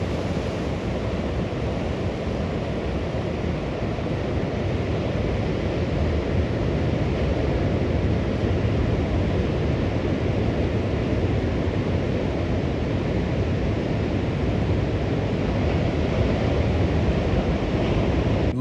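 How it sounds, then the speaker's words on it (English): Ocean surf at a point break near dead low tide, with waves dying on the inside: a steady, loud, continuous wash of breaking water and rushing foam, mixed with wind, and no distinct individual breaks. "Most waves were now dying on the inside as the tide was approaching dead low."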